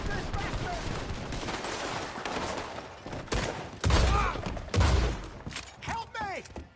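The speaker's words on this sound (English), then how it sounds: "Arthur! Shoot this bastard!" Gunfire in Red Dead Redemption 2, scattered shots through a busy fight, with two heavy booming blasts near the middle over constant background clamor and talk.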